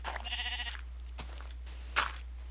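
Sheep in Minecraft give a clear bleat near the start, a wavering, buzzy call lasting about half a second, followed by faint scattered game noises and a short sharp click later on.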